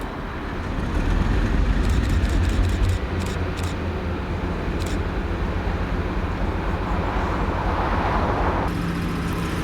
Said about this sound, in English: 56049 gets started up and does all its shunt moves ready to work 6N47, the 1656 Prestwick BP Oil to Grangemouth.